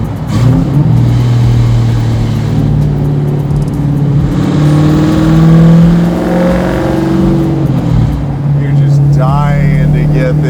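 A 1,000 hp Hellephant-powered Plymouth Cuda restomod rumbles loudly and steadily while cruising a bumpy road, its deep exhaust drone swelling slightly mid-drive before settling, with occupants talking over it.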